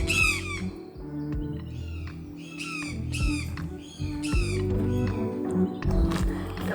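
Several birds squawk harshly in repeated rough calls as they fly low overhead at hotel grounds in Costa Rica, loud and close, over a steady low background hum.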